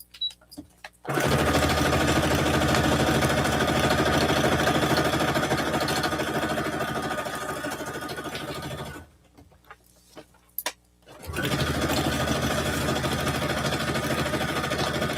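A sewing machine stitching a quilt runs in a fast, steady mechanical whir for several seconds, stops briefly with a few clicks, then starts up again, close and loud.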